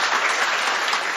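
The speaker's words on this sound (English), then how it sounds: "Let's give our panelists a round of applause for being here." Steady applause from a conference audience for a panel on medicine and economic liberty, dense and even across the whole moment with no break.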